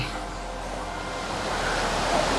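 A waterfall roars as a steady, broad rush of falling water, fairly loud and continuous throughout with no voices over it.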